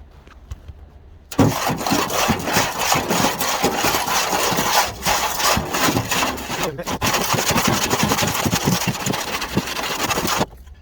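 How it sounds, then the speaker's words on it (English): Egg is scraped off car paint with a continuous rough rubbing and scratching, starting after a quiet moment and carrying on in uneven strokes with brief pauses, close and fairly loud, with no talk. "so that's scraped the egg off."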